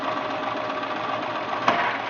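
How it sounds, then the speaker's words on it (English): Sewing machine stitching along the selvage of monks cloth, a steady, fairly loud buzzing run with one small click near the end. "So you just continue along, stitching to the other end of the selvage and 8 rows in from the cut edge,"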